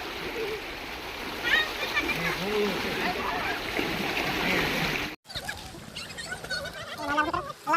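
A group splashes about in flowing water, a steady wash of splashing and rushing water filling the scene with voices mixed in; the sound cuts briefly near the end before resuming with more splashes and talk.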